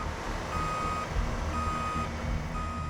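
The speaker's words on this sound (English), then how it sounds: "Then Dylan has to back his truck closer to the edge." A tow truck backs up toward a highway edge, its reversing alarm beeping steadily in a regular rhythm over a low, rumbling diesel idle, with no voices.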